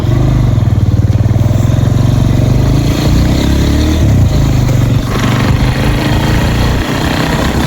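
A motorcycle engine runs steadily while being ridden, a loud continuous mid-pitched drone with slight shifts in throttle throughout, no talking.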